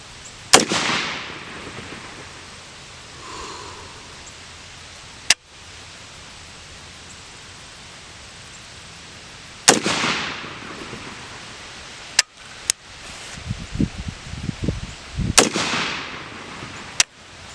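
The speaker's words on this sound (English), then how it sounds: "there's going to be a couple of shots with a solid NPA and a couple of shots without" Rifle shots are fired outdoors from prone and sitting positions. About five sharp, loud cracks come at irregular intervals, each followed by a short echoing tail, with quiet handling and rustling in between.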